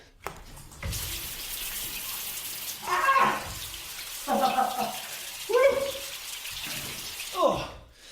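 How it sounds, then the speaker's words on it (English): A cold shower runs as a steady close hiss of falling water, broken by loud sharp gasps and exclamations from the person under the spray. "I'm about to take a really cold shower."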